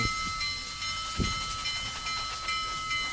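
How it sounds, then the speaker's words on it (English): A train in the video game RO-Scale Rails, a Union Pacific train, rumbling and hissing with steady high whistle tones, a mechanical churn that grows as it draws nearer. "So the train is absolutely closing in."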